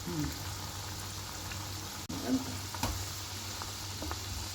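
Green gobi 65 cauliflower coated in masala cooks in a pan with a continuous soft, close sizzle and bubbling. Brief stirring scrapes break in now and then.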